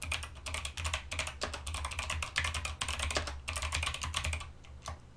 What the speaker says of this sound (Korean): 자, 그러면 먼저 문자를 입력을 해볼게요.